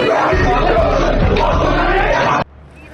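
A crowd on a road in Motihari, Bihar, loots soybean oil: loud, dense, shouting hubbub fills the scene close by, then cuts off abruptly near the end.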